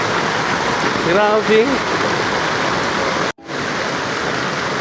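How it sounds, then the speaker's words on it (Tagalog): Heavy rain pours outdoors during a street procession, a dense, steady hiss that fills the whole stretch while a person briefly speaks over it. "Guys, lumakas yung ulan."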